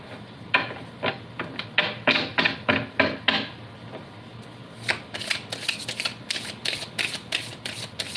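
Tarot cards being shuffled by hand during a live reading: a run of quick, crisp riffling bursts in steady rhythm, pausing briefly midway and then resuming, close and clear with no talking.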